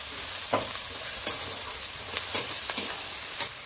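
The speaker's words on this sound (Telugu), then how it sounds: "వేసుకొని ఆనియన్స్ కొంచెం లైటిష్ బ్రౌన్ అయ్యేంత వరకు వీటిని వేపుకోండి" Onions sizzling in a pan with salt, a continuous close hiss of frying punctuated by several brief scraping stirs, no voices.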